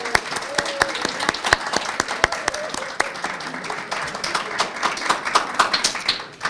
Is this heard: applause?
yes